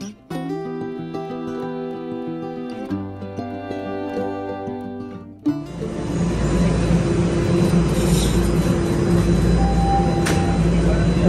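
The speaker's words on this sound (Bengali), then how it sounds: "এখান থেকে ট্রেন নিয়ে আমরা এখন বাসায় চলে যাব" Music plays for several seconds before a loud, steady rail roar takes over, as a train runs at Toronto's Union Station.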